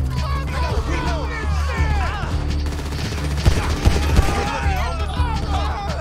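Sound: gunfire in GTA V video game

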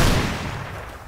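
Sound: gunfire in the video game Rust

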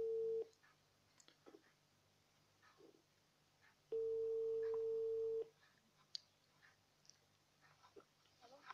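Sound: telephone call ringing tone

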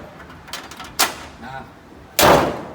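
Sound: closing the hood of a used Mitsubishi pickup

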